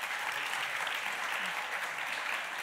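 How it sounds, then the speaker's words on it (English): An audience at an evening talk at the Serpentine gives a continuous round of applause, a dense, even patter of many hands heard from a moderate distance with no voices over it. "A big round of applause."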